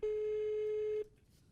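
A single steady telephone tone sounds for about a second on an unanswered call, clear and alone, then cuts to near silence.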